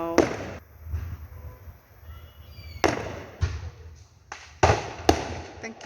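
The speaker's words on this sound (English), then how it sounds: "I hope you've enjoyed watching the fireworks with me" Fireworks go off close by, sharp loud bangs and crackling bursts at irregular intervals, with faint whistles and low rumbles between them.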